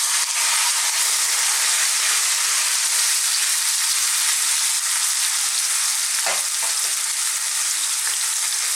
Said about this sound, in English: And now I'm going to drop in my meat.